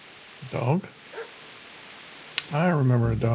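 Dog barking in the medieval role-playing game Kingdom Come: Deliverance, with two short bursts of barks near the start and a longer bark-like call at the end, fairly close and clear over quiet ambience.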